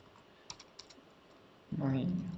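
A few light, close clicks of a computer keyboard as code is typed, spaced out over the first second and a half, then a voice begins speaking.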